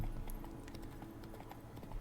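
Horse hooves clip-clop in a steady trotting rhythm in The Witcher 3, fairly close and even, with no one speaking over them.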